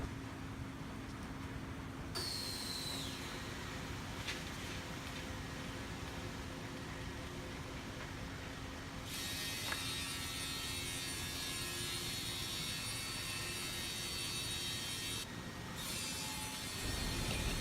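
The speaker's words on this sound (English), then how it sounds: "we will use this CNC machine to cut in the four edges of MGO board according to customers' requirement size." A CNC machine cuts the four edges of MGO board on an automatic production line, giving a steady, continuous mechanical whir and grinding hum with a brighter, harsher cutting tone that shifts partway through and carries on without pause.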